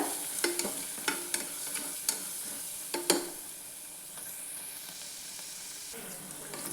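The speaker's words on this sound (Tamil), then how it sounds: "ஒரு நிமிஷம் வரை நல்லா வறுத்து விட்டுக்கோங்க" Crushed garlic fries in oil in a pan while making Tamil tomato kadayal. A soft, continuous sizzle is broken by several sharp scrapes of a spoon stirring, and the stirring eases off toward the end.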